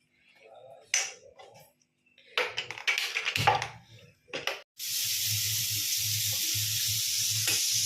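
Bottle gourd and mango kuzhambu bubbles in a pan, first under scattered bursts of talk and clatter, then as a loud, steady hiss and simmer that fills the remaining seconds.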